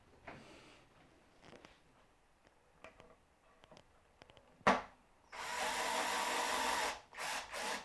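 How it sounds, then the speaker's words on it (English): After some light knocks and handling noises, a power drill whirs loudly and steadily for about two seconds, stops briefly, then spins up again, close by, while fitting hinges to a wooden trinket box lid. "what I need to do now is I need to get my trusty drill."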